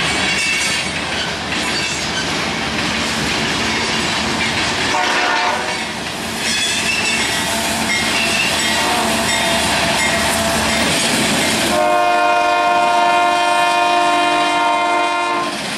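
Eastbound and westbound freight trains meeting at a rail diamond crossing in Deshler, Ohio: steady loud rumble and clatter of rolling cars, then a long, strong horn blast near the end, with no talk.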